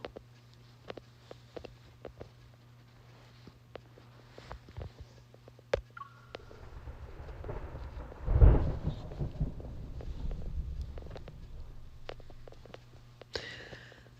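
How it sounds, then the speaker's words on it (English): Thunder in a video game rolls in as a deep rumble that swells to a loud crack midway and fades slowly, set against faint rain and scattered small clicks, with no voices. "That sounds like thunder."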